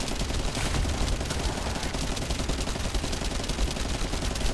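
Sustained rapid gunfire in a shooter game as a player fires at an enemy behind a deployed shield, a loud continuous dense crackle of automatic shots with no pauses.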